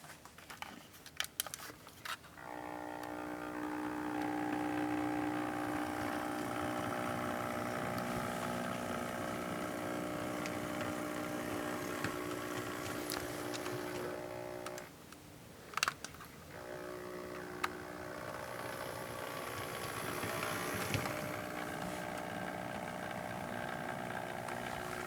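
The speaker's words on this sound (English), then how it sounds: "So let me show you that here as the locomotive will come down the track." A model DCC locomotive running down the layout track, a steady faint motor hum with whining tones lasting most of the stretch, dipping briefly partway through, with scattered clicks at the start and no talking.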